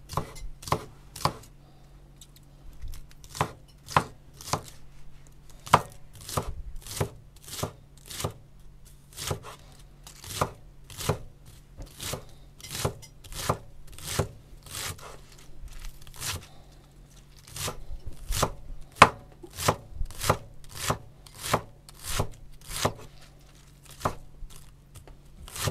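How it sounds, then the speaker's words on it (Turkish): A knife chops garden-picked onions and mint on a board in a village kitchen, giving a long series of sharp, close chops in quick runs separated by short pauses, with no talking. "Şöyle doğrayacağım."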